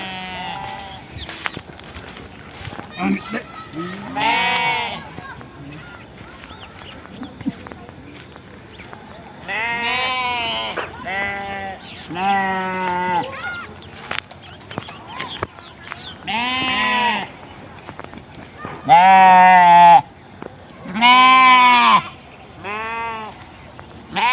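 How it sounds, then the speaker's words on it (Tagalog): Several sheep bleat repeatedly in loud, wavering calls, some close and some farther away, separated by quieter stretches of background noise. "Nag-iiyakan yung mga tupa."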